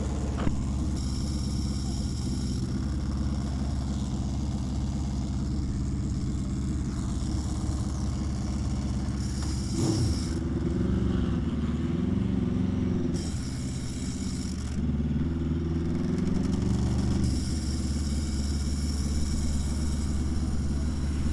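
An Aprilia RSV4 X-GP racing motorcycle is ridden on a track, its engine droning continuously and rising and falling through gear changes and revs, heard from the rider's position with steady wind and engine noise.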